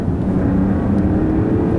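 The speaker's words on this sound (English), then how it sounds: "it's an incredibly smooth engine too" Steady, smooth engine drone from a 2020 Mercedes-Benz GLE 450 while driving, a continuous low hum heard from inside the cabin with no voices.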